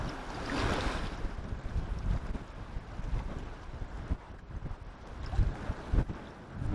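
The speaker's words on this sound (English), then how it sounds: "The wind is picking up even more" Gusty wind buffets the microphone on Weymouth Pier on a cold day, with a rough, uneven rumble and the sea washing faintly beneath.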